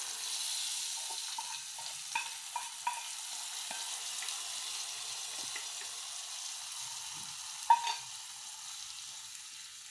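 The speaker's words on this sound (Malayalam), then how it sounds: "ഉള്ളിയെല്ലാം നന്നായിട്ട് മൂത്തിട്ടുണ്ട്" Onions sizzling and frying steadily in a pan for a ripe mango curry, a soft continuous crackle with a few brief clinks of stirring, heard alone without talk.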